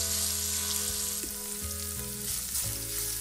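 Dried tofu stir-fried with sugar and soy sauce in a pan, a loud, continuous sizzle with shifting stirring tones and no talk.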